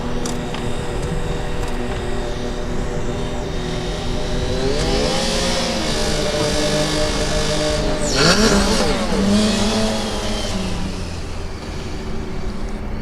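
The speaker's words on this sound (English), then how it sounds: "This engine does sound quite nice." A Formula Student race car engine roars nearby at a skid pad event, revving up with rising pitch and shifting gears, loud and continuous over a background of other engines.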